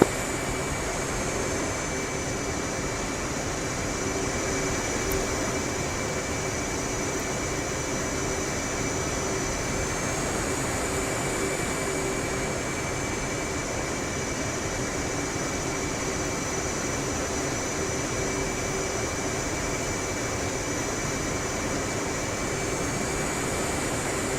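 Military aircraft taxiing with a two-ship flight, a loud continuous engine roar and high turbine whine that swells and eases slightly, steady throughout with no talking.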